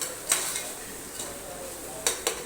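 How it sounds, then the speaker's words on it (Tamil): Masala is stirred into sautéed onions, tomatoes, green chillies, mint and coriander for chicken biryani, a few brisk spoon scrapes and clinks against the pot over a faint sizzle. "இப்போ வந்து மசாலாங்களை ஆட் பண்ணிக்கலாம்"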